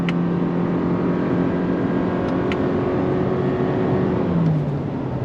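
A 2023 Toyota Corolla Cross Hybrid accelerates uphill through woods in second gear on throttle. The steady engine drone comes from inside the cabin and holds even and fairly loud, with a slight pitch shift near the end. No one speaks.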